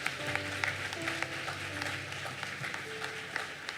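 A church congregation applauding after a member's decision of faith, moderate clapping under sustained background music and organ-like tones.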